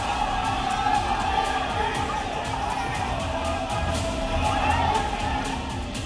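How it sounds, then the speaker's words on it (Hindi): A large crowd in Kolkata, gathered around a bulldozer demolition and holding flags, fills the air with a continuous noisy hubbub of shouting and chatter at a steady level. "भारी शोरगुल और हंगामे के बीच बुलडोजर जमकर गरजा"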